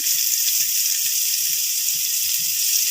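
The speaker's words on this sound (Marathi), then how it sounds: "यामध्ये घालते मी बारीक चिरलेला कांदा" Finely chopped onion sizzling in hot oil with cumin, a steady loud hiss that holds unbroken throughout, with no voices over it.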